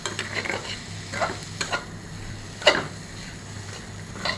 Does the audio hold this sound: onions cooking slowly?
yes